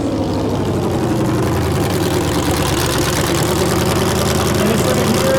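A V8 truck engine idles at a demolition derby, likely a 2006 Chevy Avalanche, giving a continuous low rumbling idle with rough pulsing throughout, with crowd and arena noise in the background.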